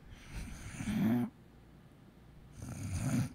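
A pet snores loudly nearby in two long, rasping breaths separated by a short quiet pause, each swelling and fading.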